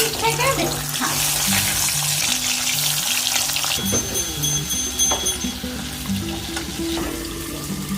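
Fish frying in a pan in a home kitchen, with a steady loud sizzle lasting throughout and brief clinks and scrapes over it, plus a faint background voice.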